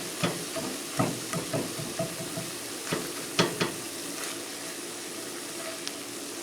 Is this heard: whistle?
no